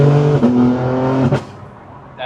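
A BMW M3 G80 with a fast-shifting transmission revs hard, its steady engine note stepping up through quick upshifts with sharp breaks between gears, then dropping away to a quieter idle near the end.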